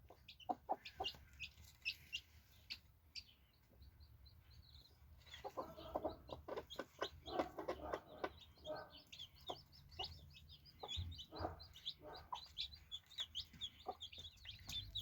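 A speckled hen with newly hatched chicks clucks repeatedly, her low calls mixed with a steady stream of high, thin chick peeps and chirps, close and lively throughout, with some rooster-like calls and rustling behind.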